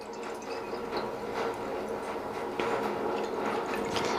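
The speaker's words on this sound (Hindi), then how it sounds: "एक करवे में हम पानी भरेंगे" Water is poured into a karwa clay pot, a steady close splashing and trickling stream filling the vessel, soft and continuous with no speech.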